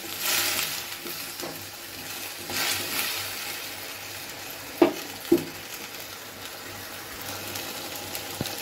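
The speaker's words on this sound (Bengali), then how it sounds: "বাটা মশলা দিয়েছি, এবার এগুলো একটু সেদ্ধ হতে থাক" Vegetables simmering with ground spice paste in a pan for festival khichdi, a steady soft sizzle with faint stirring and two brief utensil clinks partway through.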